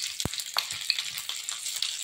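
Asafoetida and green chillies sizzle in hot refined oil in a pan, a steady bright crackling hiss with scattered pops and one soft low thump near the start.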